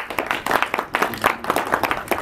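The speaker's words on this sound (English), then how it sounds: "Can you give them a big round of applause?" Gathered audience at a home event applauding their hosts: dense, close clapping from many hands, rising and falling in bursts for a couple of seconds, no speech.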